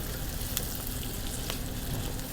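Paneer sizzles in butter with garlic and onion, a close, dense crackle with scattered sharper pops and faint scraping of stirring, no voices.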